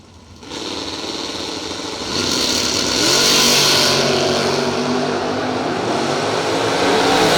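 Drag racing cars roar down the strip at a Working Man's $10 Grand event, a loud, sustained engine blast that swells after a couple of seconds and holds steady to the end, with no talk over it.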